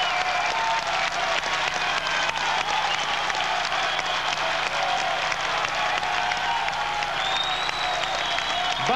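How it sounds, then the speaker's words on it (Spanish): A disco dance-contest audience claps for couple number one, a dense, sustained round of applause filling the hall for several seconds with some crowd noise in the mix. "Atención, aplausos por la pareja número uno"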